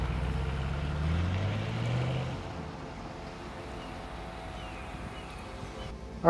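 A dark green Bentley Continental GTC drives past, its engine note swelling nearby in the first couple of seconds and then fading to a low distant rumble, with no talk.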